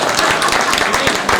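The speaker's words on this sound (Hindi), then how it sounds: "ताली तो बजा दो कम से कम।" An audience at a temple gathering claps in a brief, steady patter of many hands that fills the moment without pause.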